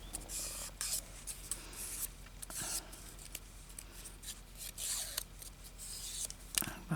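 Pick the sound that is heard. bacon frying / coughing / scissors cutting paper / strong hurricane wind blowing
scissors cutting paper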